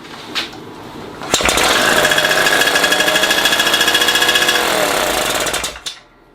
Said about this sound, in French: essayer de faire démarrer le moteur pour voir si tout fonctionne bien avant bien sûr de le tester sur route